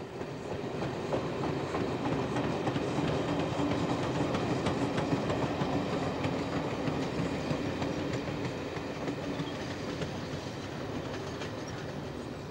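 British Railways steam locomotive 80080 runs along a line, giving a steady, continuous rumble with a rhythmic clatter of wheels on rails throughout, moderately loud and unbroken.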